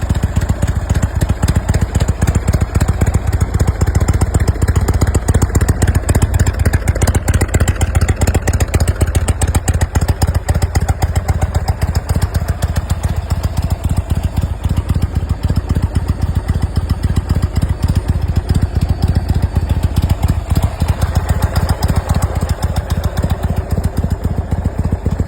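A 2019 Indian Roadmaster Elite touring motorcycle with a 116 cubic inch V-twin runs steadily throughout, a loud, continuous low rumble with a fast even pulse and no talking.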